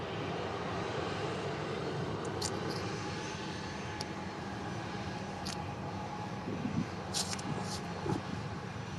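A Sun Express airliner touches down hard at Manchester Airport. A broad, sustained jet roar holds steady from fairly far off, with a few faint clicks and a slight swell near the end.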